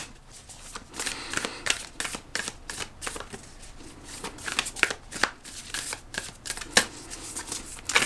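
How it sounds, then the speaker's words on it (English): Tarot cards being shuffled by hand, a steady run of crisp riffling and flicking bursts with soft slaps between them, close and fairly quiet, with no talking. "So we're gonna pull cards."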